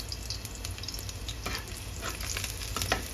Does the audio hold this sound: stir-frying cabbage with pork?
yes